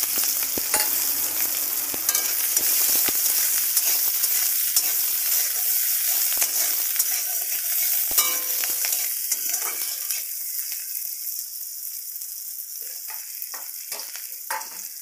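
Sliced onions and green chilies fry in hot oil in a wok, giving a loud, continuous sizzle with light stirring that eases slightly toward the end; no one speaks.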